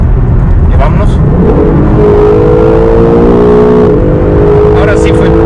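An Acura NSX accelerates hard at full throttle in its dynamic driving mode, the engine note climbing steadily with rising harmonics and a gear change midway, loud and close from inside the car.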